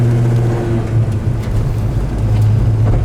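A 1967 Chevrolet El Camino V8 with dual exhaust idles steadily up close, a deep, continuous rumble with a low throb that holds even throughout, with no talk over it.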